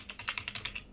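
Quick typing on a computer keyboard, a short run of light, close key clicks in an uneven rhythm, quiet and alone.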